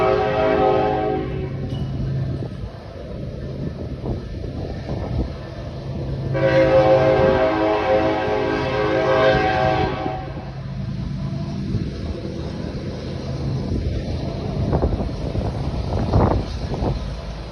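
Train rolling past a level crossing beside a fire station, its horn blaring in a long loud stretch midway over the steady rumble and clatter of railcars, heard from nearby.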